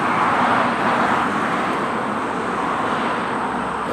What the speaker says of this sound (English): it's time for everybody to get home from work and traffic's picking up